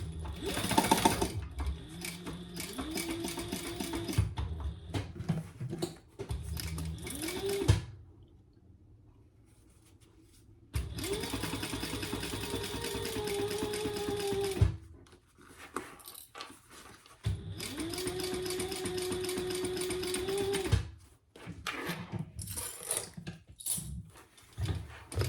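A sewing machine top-stitches the turning hole of a crossbody bag, running in long steady bursts of rapid needle stitching separated by brief pauses, loud and close with no talk.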